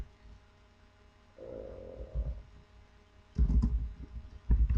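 Keys tapped on a computer keyboard while writing HTML code, a few short clusters of close clicks separated by pauses, with a low hum underneath and no speech.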